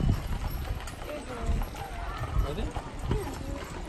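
Horse hooves clip-clop on the ground at a Black Hills, South Dakota attraction, a speckled horse among them, with several soft uneven steps under steady outdoor background noise and people talking close by.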